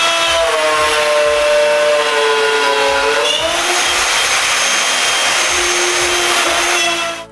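A power drill boring holes into small wooden soffit planks in a workshop, a loud steady whine running continuously at close range, its pitch shifting as the bit cuts through the wood.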